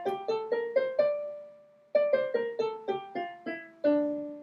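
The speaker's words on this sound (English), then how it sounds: "The natural minor scale sounds like this." A D natural minor scale played on a piano: single clear notes in an even stepwise run, a pause with one held tone, then a second run of struck notes, close and fairly quiet.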